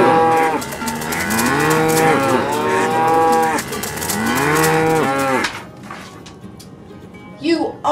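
Cows moo in two long, overlapping bellowing bouts, loud and close, before the calls drop away into quieter background noise.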